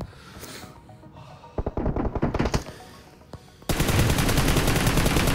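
Gunfire in the mobile battle-royale game PUBG Mobile: a burst of rapid shots in the middle, a lone shot, then dense sustained automatic fire to the end, loud and close over game ambience.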